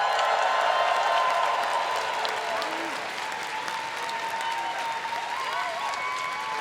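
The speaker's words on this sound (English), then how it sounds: "Our prop crew, please give them a big round of applause." A crowd at Star Wars Celebration claps steadily and warmly, a dense wash of applause with a few faint voices and whoops mixed in.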